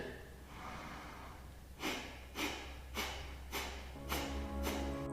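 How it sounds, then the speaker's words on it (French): Breath of fire, a rapid kundalini yoga breathing exercise: a run of about six sharp, forceful nasal exhalations in a steady rhythm, close and clear over a low steady hum. "dans cette posture, on va pratiquer la respiration du feu"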